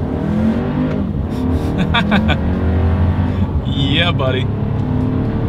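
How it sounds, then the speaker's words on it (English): A 2021 Volkswagen Arteon sedan with all-wheel drive in sport mode pulls away hard, its engine roaring and climbing through the revs with a quick gear shift, loud inside the cabin while a man cheers briefly over it. "Let's see how quickly this one can get us up to speed."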